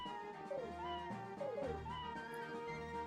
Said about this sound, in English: cats are everywhere.